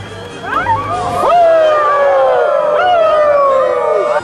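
A crowd of children imitates wolves howling, many voices rising and falling together in long, loud, sustained wails with some sharper yips, all close by.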